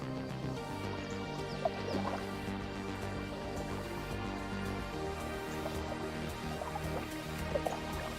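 Water trickles and drips gently in a little creek beneath an old railroad bridge along a river, quiet and steady with a few brighter drips standing out.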